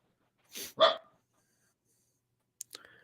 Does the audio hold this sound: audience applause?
no